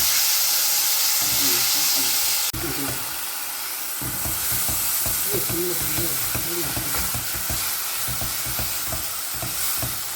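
Mashed nendran banana sautés in ghee, a steady close sizzle and hiss running throughout with stirring scrapes and soft knocks of a spoon against the pan.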